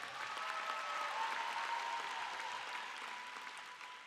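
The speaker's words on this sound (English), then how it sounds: "give the graduates a round of applause for working so hard" A large audience at a high school graduation ceremony claps steadily for the graduates, a dense wash of applause that holds for several seconds and slowly eases off.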